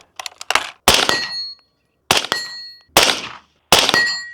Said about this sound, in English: So take some shots at the infinity target real quick.